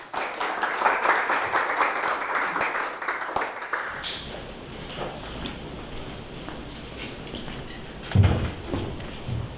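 Applause from a forum audience after a lecture at the opening of a cooperative education hall, a dense crowd clapping for about four seconds before it cuts off, leaving quiet room noise and a brief thump.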